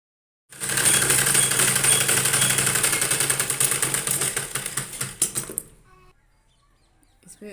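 A sewing machine stitches a blouse with a fast, close, rattling run lasting about five seconds, then slows into separate stitches and stops.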